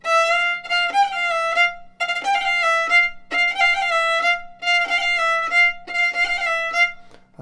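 Solo fiddle playing a quick traditional Gaelic tune at full speed, with rapid roll ornaments on the notes, bowed in five close, bright phrases with short gaps between them.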